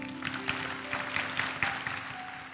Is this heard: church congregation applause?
yes